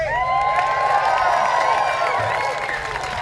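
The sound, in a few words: crowd clapping and cheering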